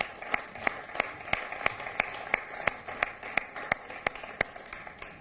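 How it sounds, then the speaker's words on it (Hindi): Audience applause at a Hindi poetry competition stage event, a steady wash of many hands with sharp individual claps standing out, continuous and moderately loud. "आपकी तालियां बजती रहे जब तक वो मंच पर आते हैं।"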